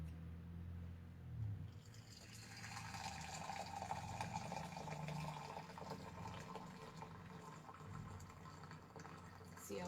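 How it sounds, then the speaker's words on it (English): Hot water pours from a height into tea cups, a faint, steady splashing and filling stream lasting several seconds, quiet and close. "if you pour from high, that water will be cooling off here too on the way down"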